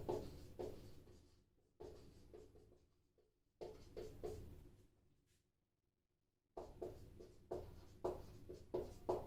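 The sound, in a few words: writing on a board during a lecture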